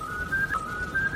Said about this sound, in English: that sound was the whistle of El Silbon